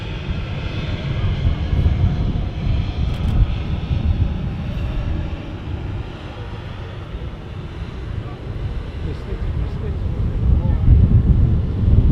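A Norwegian Boeing 737 at Manchester Airport gives a steady, broad engine roar with wind rumble, holding loud throughout and swelling toward the end.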